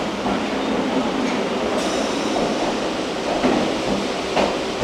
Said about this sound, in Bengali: শিয়ালদা স্টেশন থেকে ছেড়ে আমাদের ট্রেন কিন্তু এগিয়ে চলেছে আগরপাড়ার দিকে